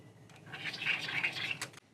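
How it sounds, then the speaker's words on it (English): A Noga deburring blade scrapes along the edge of a brass fuel distribution tee, a short close rasping sweep of about a second, heard alone in a quiet shop. "Let's break that edge with a Noga tool."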